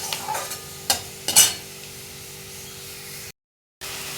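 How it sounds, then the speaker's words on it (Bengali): Onions sizzle in a pan with ground cumin and coriander, a steady frying hiss broken by a few sharp spatula scrapes and stirring clatters, then a brief cut to silence before the sizzle resumes. "তো পেঁয়াজটা ভাজা হোক,"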